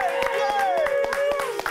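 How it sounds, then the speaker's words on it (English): A studio audience at a morning TV show claps in quick, sharp, rhythmic bursts over an upbeat musical line, close and lively. "Give them a round of applause!"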